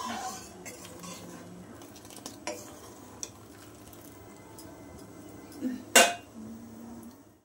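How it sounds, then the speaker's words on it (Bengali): A pot of dal being lifted off the stove and a kadai set down in its place, scattered soft clanks and scrapes of metal cookware, then one sharp, loud clang near the end, over quiet kitchen background. "আমি ডাল নামিয়ে কড়াই বসিয়ে দিয়েছি।"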